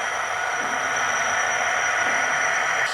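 A Hornby TT120 Class 66 model locomotive in GBRf livery running slowly over points, giving a steady, close motor whir and rail hiss throughout with no talk.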